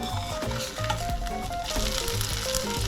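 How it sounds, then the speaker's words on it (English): Draniki potato pancakes sizzle steadily in a hot pan, a close, continuous crackle with soft background music and no talk. "once it's hot enough, you're gonna lay down your potatoes, Draniki, and flatten it out like so"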